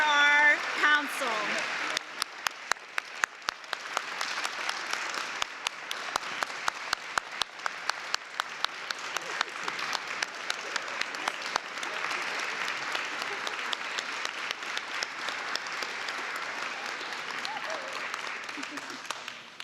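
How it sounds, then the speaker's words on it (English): Applause from the audience at a metro council swearing-in ceremony, a long, sustained round of clapping from a crowd with sharper individual claps standing out, continuing for nearly twenty seconds at moderate level. "Let's have one more big rumbling round of applause for our council."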